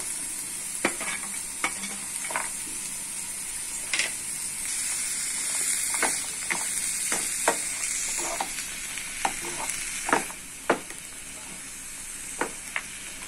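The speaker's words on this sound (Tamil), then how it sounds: "எல்லாத்தையும் சேர்த்து நல்லா வதக்கிக்கோங்க. லைட்டா வதக்கிட்டு பட்டர்லயே லைட்டா வதக்கிட்டு" Tomato, onion, nuts, ginger and garlic sautéing in butter for paneer butter masala: a steady bright sizzle with repeated scraping stir strokes, close and fairly loud, no voices.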